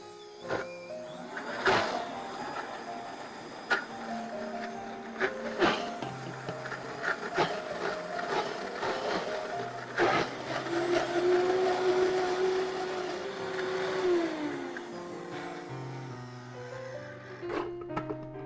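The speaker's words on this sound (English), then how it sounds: "I'll just blend this till it's smooth." A blender whirs steadily for most of the stretch blending hummus, its motor pitch shifting as the contents churn, with occasional knocks and clatter.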